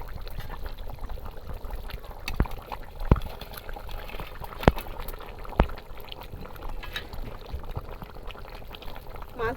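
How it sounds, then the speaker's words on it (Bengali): Fish curry boiling in a pot on a home stove, a steady close bubbling with scattered sharp pops and clicks throughout, no talking. "ঝোলটা খুব ভালো করে ফুটছে"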